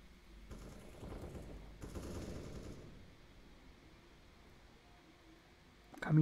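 Automatic-weapon fire from a Counter-Strike: Global Offensive match comes as two short, muffled bursts of rapid shots early on, followed by quieter game ambience and a loud sharp noise at the very end.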